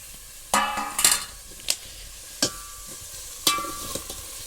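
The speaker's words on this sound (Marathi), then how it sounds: "फोडणी घातलेली आहे फोडणीच म्हणतात ना" Tempering of onion and oil for misal sizzles in a pan over a wood-fired stove, with sharp clattering stirs and scrapes of a spoon sounding in bursts over a low background sizzle.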